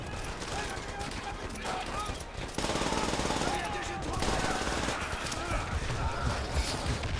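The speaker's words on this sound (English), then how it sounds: "Who's over there shooting me?" Dense, continuous gunfire from a World War II–era Call of Duty match, with MP40 and STG submachine and assault rifles in play, rattling throughout with a sharper burst near the middle while a voice talks over it.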